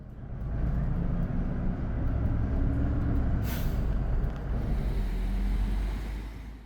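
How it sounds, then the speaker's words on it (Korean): A Seoul city bus, route 402, drives uphill around Namdaemun with a steady low engine rumble and road noise, a brief hiss of air in the middle, and no voices. "402번 버스는 국보위로 남대문을 끼고 한 바퀴 돌아서 언덕으로 올라갑니다"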